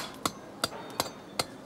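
A steel hammer strikes a point chisel against stone in four sharp, evenly spaced ringing blows, close and clear with no talk.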